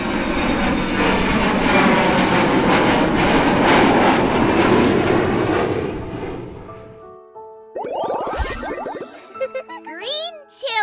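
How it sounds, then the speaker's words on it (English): An airplane roars loudly overhead for several seconds, the engine noise fading out before a bright tinkling jingle and a voice take over. "Airplane."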